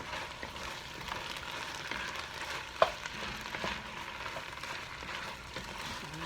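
Chili ingredients with beef broth being stirred in a pot over steady frying sizzle, with a single brief clack of the spoon partway through and no talking.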